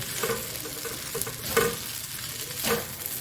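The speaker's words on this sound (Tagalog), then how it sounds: "hinalo ko na yung rice. Fried rice with tomato." Tomato fried rice is stirred in a pan with a steady sizzle under repeated scraping strokes. The sound is close and moderately loud, with no talking.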